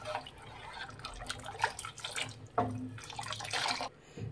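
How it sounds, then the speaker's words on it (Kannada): Water left from boiling dal is poured into a pot of thick drumstick-leaf sambar, a faint, uneven trickle and splash with small drips and no speech. "ಬೇಳೆ ಬೇಯಿಸಿರೋಂಥ ನೀರೇ ಹಾಕ್ತಾ ಇದ್ದೀನಿ"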